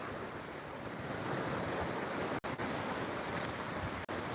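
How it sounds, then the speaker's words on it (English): Ocean waves rolling onto a beach in the evening after sunset make a steady, broad wash of surf with some wind noise, continuous throughout with two brief dropouts. "and watch the waves come in."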